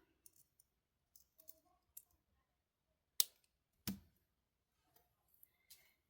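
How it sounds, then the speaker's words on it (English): Metal jewelry wire snipped off with small cutters while making a beaded necklace: a couple of sharp, close clicks stand out against a very quiet background, surrounded by faint light taps and handling noises. "And then we're going to snip this off."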